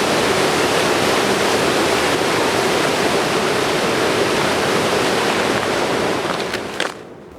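A river rushes with a loud, steady, unbroken roar of churning water, with no voices, easing slightly in level near the end.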